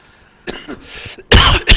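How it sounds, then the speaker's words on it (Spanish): A few sharp, loud coughs from a person, one brief burst followed by a heavier double cough close to the microphone, with quiet pauses between. "Vaya, me da a mí la tos ahora al final."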